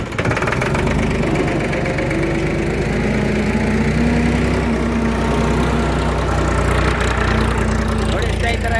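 At a clay brick factory, a tractor engine idles loudly and steadily nearby, a constant low mechanical rumble with knocking undertones, and voices are faintly audible beneath it.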